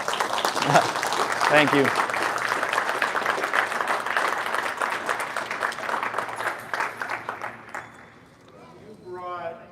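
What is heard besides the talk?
audience clapping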